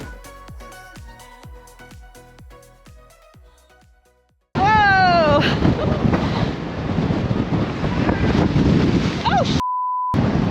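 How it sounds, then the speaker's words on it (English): Strong, gusty seaside wind in Blackpool, UK, roars and buffets the microphone loudly for several seconds after a stretch of soft music, ending with a short steady tone. "This wind is mental."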